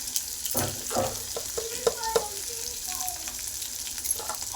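Egg bhurji being stirred and sautéed in a pan, with a continuous sizzle and repeated scraping and tapping of a spatula against the pan, close and moderately loud.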